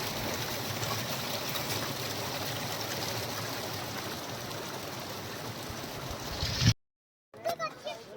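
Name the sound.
mountain stream water flowing down, Solang Valley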